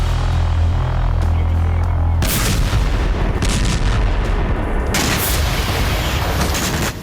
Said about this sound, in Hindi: कीव में मिसाइल हमले के दौरान कई धमाके हुए।